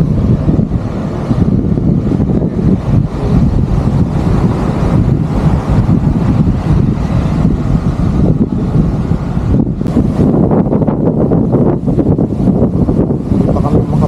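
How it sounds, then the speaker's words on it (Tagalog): Strong sea waves and gusting wind at Cagsiay 2 beach in Mauban, Quezon, a loud continuous roar of surf with heavy wind buffeting the microphone and occasional bursts of crashing water. "Lakas ang alon."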